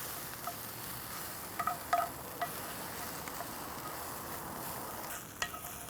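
Fajita vegetables sizzle in a 10-inch cast iron skillet under an Otto Wilde O.F.B. over-fired broiler. A steady, fairly quiet hiss runs throughout, with scattered small pops and crackles and no voices.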